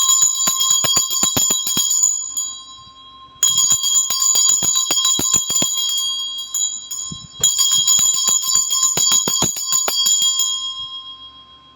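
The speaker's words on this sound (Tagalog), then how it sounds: "Ito pong aking Tibetan bell." A Tibetan bell rings out in three bright metallic strikes, each leaving a long shimmering tone that slowly decays, loud and close with no talking over it.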